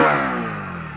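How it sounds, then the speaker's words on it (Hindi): A Hero Splendor Plus motorcycle engine revving close by, a steady buzzing exhaust note that swells and slowly eases off, with no voices over it. "इंजन साउंड सुनो, एग्जॉस्ट नोट सुनो। थ्रॉटल लेता हूँ"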